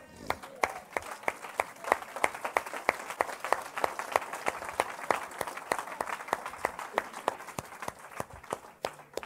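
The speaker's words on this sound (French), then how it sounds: "On acclame la parole du Seigneur." A church congregation applauds with dense, steady clapping from many hands that carries on without a break, while voices call out in the room.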